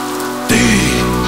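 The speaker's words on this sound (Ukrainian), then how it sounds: "йдеш уночі під заливним дощем, без плаща, парасолі." Heavy pouring rain at night, a steady dense wash that swells abruptly about halfway through and then holds loud and constant, with low tonal music underneath and no voices.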